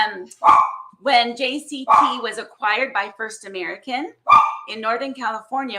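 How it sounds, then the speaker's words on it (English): A dog barks in short, sharp bursts three times in a home during a live interview, each bark cutting over a person's steady, close talking. "sorry about my dog, darn it."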